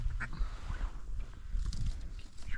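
Wild ducks calling overhead during a rainy duck hunt, a few quacking bursts scattered over steady rain and low rumbling background noise, moderately distant and not very loud.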